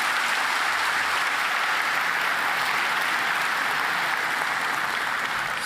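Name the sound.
conference audience applause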